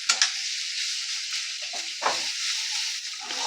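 Chili powder frying in hot oil in a pan, a loud, close, continuous sizzle with occasional stirring scrapes and softer bubbling bursts.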